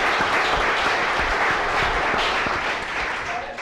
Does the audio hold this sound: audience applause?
yes